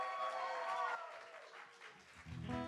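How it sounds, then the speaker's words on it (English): Audience applause for a singer at a live music show in a small London venue, steady clapping from a crowd, moderately loud, with a voice and some cheering emerging near the end. "We need a stadium-sized round of applause for this"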